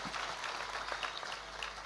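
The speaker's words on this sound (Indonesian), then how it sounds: "Tepuk tangan untuk Faik." Audience applause at an Indonesian religious lecture, a steady wash of clapping from a crowd held throughout at moderate distance with no talk over it.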